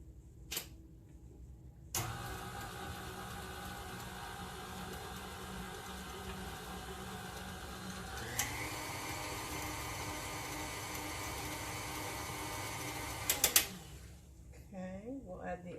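An electric mixer whirs steadily through cookie dough with an egg just added, starting abruptly, shifting pitch midway and cutting off with a clatter, fairly quiet and close.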